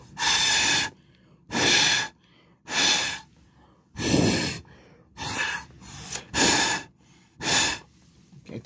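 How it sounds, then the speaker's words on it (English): A patient breathing in and out through a handheld device during a hospital ER exam: about eight loud, airy breaths in an even rhythm, separated by short silences, with no talking. "I need you to take this and breathe through it like this."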